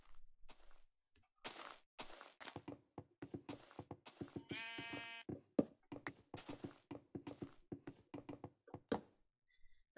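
A sheep in Minecraft gives a single clear bleat amid a run of blocky footsteps and knocking thuds from the game, close and alone without talk.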